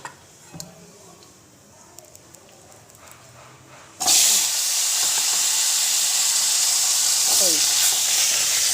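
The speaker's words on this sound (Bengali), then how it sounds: "এই আলুটাকে আমি ভালো করে এখন ভেজে নেব" Potatoes drop into hot oil tempered with black cumin for a thin katla fish curry. After a quiet stretch, a loud, steady, close sizzle suddenly starts and keeps going, with faint crackles.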